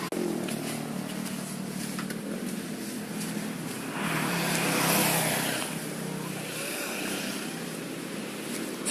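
A car driving, giving a steady broadband rush of road and engine noise that swells slightly midway, with no speech.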